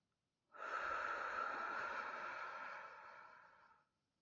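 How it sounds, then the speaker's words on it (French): A single slow, audible breath out during a relaxation exercise, close and soft, rising quickly then fading gradually over about three seconds. "je peux entendre ma respiration"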